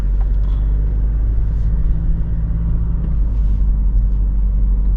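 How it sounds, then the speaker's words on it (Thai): A car descending a steep, very winding mountain road at Khun Sathan in Nan province, Thailand, with a low gear selected, gives a steady, loud low-pitched engine and road rumble heard from inside the cabin. "บรรยากาศการขับลงเขาคุณสถานจังหวัดน่าน โค้งเยอะมาก"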